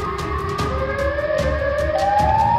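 A wailing siren, the Siren Head monster's call, rises slowly in pitch as a sustained tone, loud and continuous, with faint rhythmic pulses beneath it.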